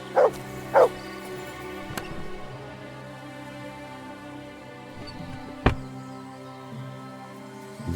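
A dog in Kingdom Come Deliverance 2 gives two short barks near the start, then quieter game ambience follows with a few sharp clicks.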